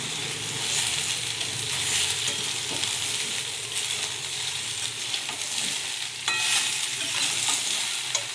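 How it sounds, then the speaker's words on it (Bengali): Dried fish sizzles steadily in oil in a pan while being stirred, with a continuous close frying hiss and occasional scraping of the spoon, no voices. "এটাকে ভেজে ভেজেই রান্না করব যতক্ষণ না শুকো মাছের গন্ধটা যায়"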